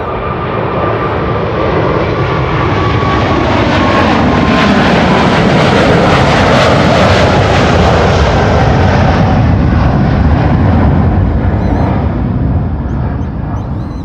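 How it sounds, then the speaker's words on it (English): A KLM airliner powered by GE90 jet engines at Amsterdam Schiphol: a loud, close, continuous jet roar that swells to a peak midway and then slowly recedes, with a faint whine riding on the rumble. "What a sound, the GE90s."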